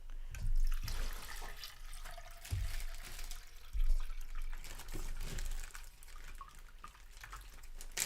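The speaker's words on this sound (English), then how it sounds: "I'm just going to pour some water" Water pouring steadily into a container, a continuous splashing, gurgling stream close by with brief louder surges and no talk.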